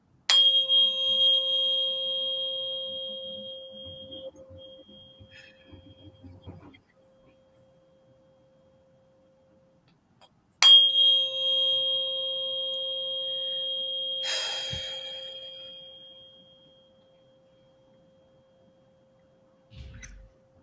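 Pure 528 Hz sine tone with faint overtones sounds steadily twice, each lasting several seconds and fading out, separated by near silence.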